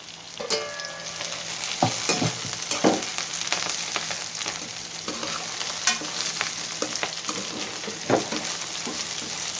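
Brinjal pieces dry-roasting in a pan with peanuts and onions, no oil: steady close sizzle and crackle with repeated scraping stirs across the whole stretch, no talk.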